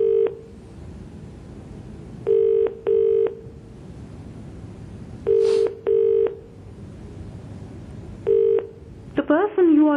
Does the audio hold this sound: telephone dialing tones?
yes